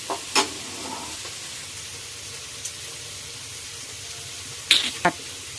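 Marinated chicken pieces frying in a pan for butter chicken, a faint steady sizzle with a few sharp clinks of a utensil stirring against the pan, close and without talk.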